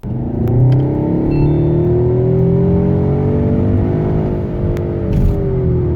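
A Seat Leon Cupra Sportstourer's 300 hp 2.0 TSI engine with 7-speed DSG pulls hard and steadily for several seconds, its tone climbing, with a loud, close, continuous rumble.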